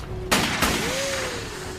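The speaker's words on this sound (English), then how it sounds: "Someone's shooting at us." Gunshots fired at a warehouse: two loud, sharp cracks about a third of a second apart, close and booming over a steady background rumble, followed by a faint rising whine.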